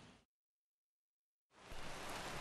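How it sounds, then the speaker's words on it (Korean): A sudden rain shower bursts in after a stretch of silence, a dense steady wash of falling rain that comes in loud and close and holds without a break. "정말 거짓말처럼 내리는 소나기."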